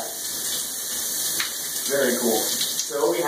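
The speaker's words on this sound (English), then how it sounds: "So what we have is a nice warm shower that's getting water all over the place" A warm shower runs steadily, a bright hissing spray of water close by, with a person's voice speaking over it in the second half.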